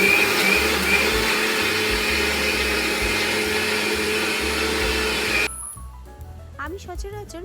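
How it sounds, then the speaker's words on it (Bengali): An electric mixer grinder grinds poppy seeds into a paste for Bengali alu posto. It roars loud and close without a break for about five seconds, then stops suddenly, leaving quieter music and a voice. "আমি সচরাচর মিক্সিতেই পোস্ত বেটে নিই।"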